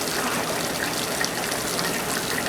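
A very heavy downpour hammers down in a continuous wash of hiss and rushing water, loud and unbroken throughout, heard through an open window as gutters overflow.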